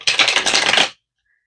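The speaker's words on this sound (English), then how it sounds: "let's give it one more quick shuffle" Tarot cards riffled in one quick shuffle during a love reading, a dense papery rattle lasting just under a second, close and fairly loud, then silence.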